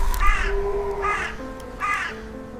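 A raven calls in three loud, harsh caws, evenly spaced about a second apart, close and clear over a low background hum.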